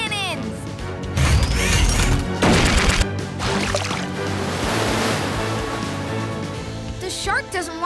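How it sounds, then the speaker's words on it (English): Loud rushing, crashing water bursts out of a cartoon water cannon in a forceful blast, then a steady roar of spraying water continues, with excited voices breaking through. "Launch these fish treats through your water cannon."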